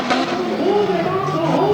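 Rough truck racing at a Jennerstown, Pennsylvania monster truck and rough truck event, its engine roaring loud and steady at full throttle with rising, wavering tones, likely with a commentator talking over it.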